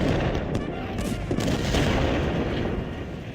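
Artillery fire in the Civil War strategy game Ultimate General: Civil War, a dense, rumbling barrage of booms and crackling gunfire rolling continuously without pause, loud and close throughout.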